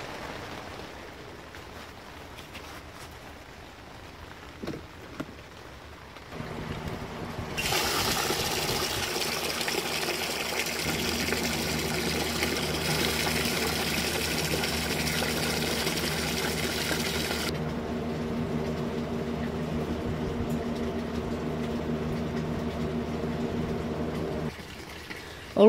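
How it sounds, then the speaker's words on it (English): A mini fogponics cloning setup with a fogger and water pump starts up, a steady bubbling, hissing water rush switching on after a few seconds and running continuously at close range before part of it cuts out near the end. "Alright, let's fire this up."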